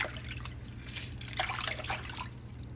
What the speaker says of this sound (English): Just squeeze the lime in the water to wash them.